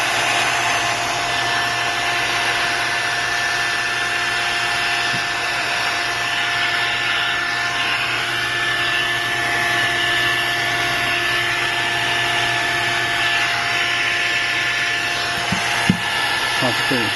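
A hot air rework tool blows a steady, close whirring hiss while heating the glass of an iPad Mini, a continuous drone that runs the whole time with faint clicks near the end.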